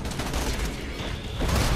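A grenade detonates in the video game Borderlands 2, a dense, rumbling blast with crackling bursts that fills the whole moment.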